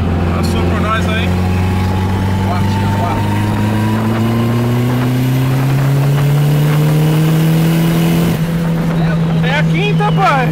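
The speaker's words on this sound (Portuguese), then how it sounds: "Vai a quinta e acelera, põe na quinta!" A car engine revs and pulls steadily higher through the gears, loud and close, with excited voices talking over it and another vehicle passing.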